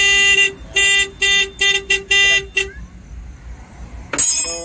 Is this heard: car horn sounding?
yes